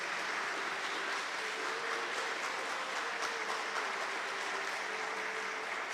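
A room full of people claps in steady, even applause that sounds somewhat distant and moderately quiet, with a faint tone underneath.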